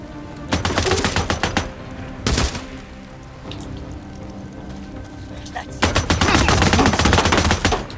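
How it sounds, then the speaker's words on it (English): Automatic gunfire in Days Gone rattles out in two loud rapid bursts separated by a quieter stretch, with a single sharp shot between them. "My gun's gonna hit him from that distance."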